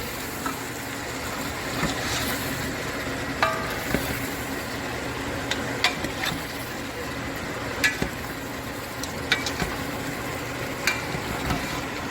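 Curry goat stirred in a pot, a steady low simmering sizzle with scattered sharp scraping clicks of the spoon against the pot at irregular intervals.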